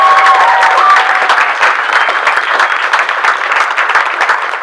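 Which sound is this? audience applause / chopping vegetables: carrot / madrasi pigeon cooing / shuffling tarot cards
audience applause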